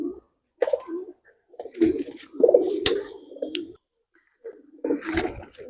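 Pigeons in a Bangalore breeding loft coo in short, throaty bursts with pauses between, close by and fairly clear, with faint background chirps.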